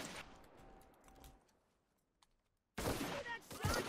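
Gunfire in the battle royale video game Cuisine Royale: faint distant shots early on, a near-silent gap, then a sudden loud burst of rapid firing.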